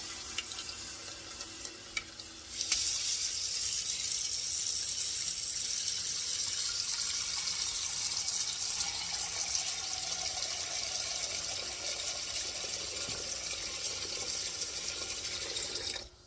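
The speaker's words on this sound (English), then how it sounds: "I'm going to add in me some water" Water pours steadily into a pot for a long stretch, a broad rushing hiss whose pitch slowly rises as the vessel fills.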